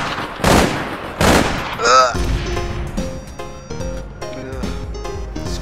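Burst-fire gun in the online shooter APB Reloaded fires short, loud rapid bursts up close, followed by clinking metallic clatter and scattered impacts, with game sounds layered over faint talk.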